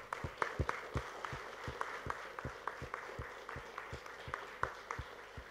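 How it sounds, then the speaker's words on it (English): Scattered clapping from a fairly small audience at a TV channel show launch event, distinct individual claps landing in a loose steady rhythm, moderately distant and quiet. "can I have a big applause for all of them?"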